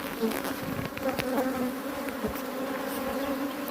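Dense, steady buzzing of honeybees working a hive frame where the queen is laying eggs, close and continuous with shifting tones, no talk.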